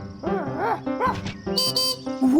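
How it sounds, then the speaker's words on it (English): A cartoon puppy dog barks and yips in a quick series of short, bright, close-up woofs and whimpers, heard alone without talk. "It's a puppy dog."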